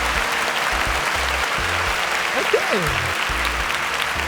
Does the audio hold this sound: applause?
yes